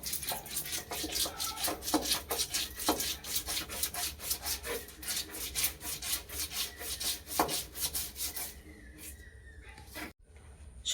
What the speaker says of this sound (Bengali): সর্ষে পোস্তটাকে বেটে নিচ্ছি।